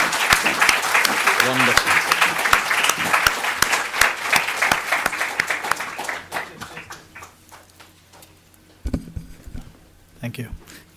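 Audience applause after a psychoanalysis lecture on Freud, dense clapping that gradually thins to scattered claps by about six seconds, followed by quiet with a brief spoken word and a few stray sounds.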